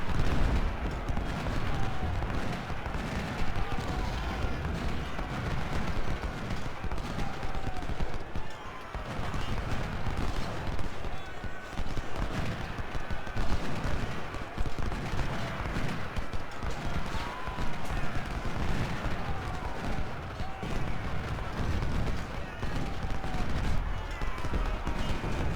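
Dense battlefield gunfire at Gettysburg in the Civil War strategy game Ultimate General: Civil War, with rattling musket volleys, scattered shots and galloping hooves running steadily for the whole stretch, while a voice talks over the din now and then.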